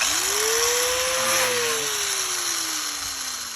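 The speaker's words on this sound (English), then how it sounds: "Just use my grinder to cut it." An angle grinder cuts through metal roof flashing, its high whine rising in pitch and then slowly falling as the disc bites, loud and close with a steady rough hiss across the full length.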